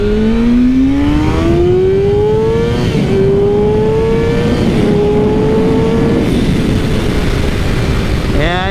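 A Kawasaki ZX6R supersport motorcycle accelerates hard over a bridge, its engine note climbing through the gears in rising sweeps with brief dips at each shift, loud and close against strong wind rush.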